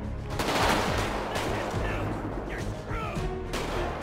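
Rapid automatic gunfire in GTA 5 with the LSPDFR police mod during a military and SWAT patrol shootout, a dense, continuous crackle of shots with a few sharper bursts, loud and sustained, with voices mixed in.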